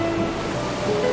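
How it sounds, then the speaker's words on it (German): Sea waves break and wash steadily on a secluded beach near Amasra, a continuous close surf roar with no talking. "Die Wellen hier erinnern mich voll an den Atlantik."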